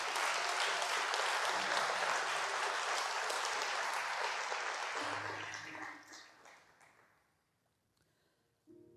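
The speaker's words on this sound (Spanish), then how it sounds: "si le va a dar un aplauso al Señor," A church congregation applauds during a sermon by Pastor Alain Lopez. Full, sustained clapping holds for several seconds, then thins and dies away into quiet, with a brief sound returning at the very end.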